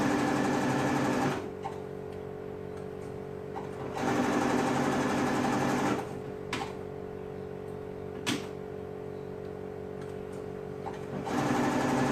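A sewing machine runs a zigzag stitch around the edge of a boy's knit tank top, in three steady whirring bursts separated by quiet pauses.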